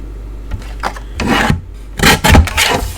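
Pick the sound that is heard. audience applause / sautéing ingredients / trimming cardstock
trimming cardstock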